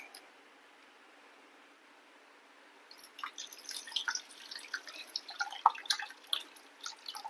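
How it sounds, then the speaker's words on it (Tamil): Water poured into a pot of onion kara kulambu, a soft splashing trickle that starts partway through after a quiet stretch and continues unevenly, close and faint. "எவ்வளோ தண்ணி வேணுமோ தேவையான அளவு தண்ணி நம்ம ஊற்றிக்கலாம்."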